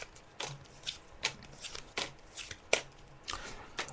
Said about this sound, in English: So I'm just shuffling the cards